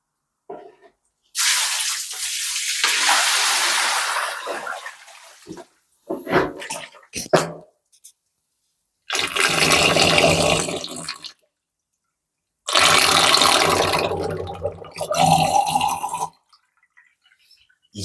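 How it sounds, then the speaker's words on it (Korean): Water running and draining in an office bathroom. Loud rushing bursts start and stop several times, separated by complete silence, with a gurgling drain flow between the gushes. "화장실에 있는 물소리를 배수 소리를 한번 들려드리겠습니다."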